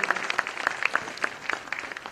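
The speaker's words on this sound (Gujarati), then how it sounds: "સૌ સંતોને એકવાર જોરદાર તાળીઓથી આપણે સૌ વધાવીએ." An audience claps to honour the saints at a religious katha gathering in Gadhpur, a brief burst of dense, lively applause with sharp individual claps standing out.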